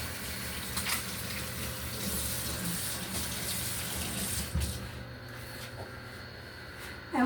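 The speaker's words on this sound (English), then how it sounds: "Wash my hands real good." Hands are washed under a steady stream of running tap water in a kitchen where cinnamon rolls are being made; the water is fairly loud and continuous, then stops near the end and a few small clinks follow.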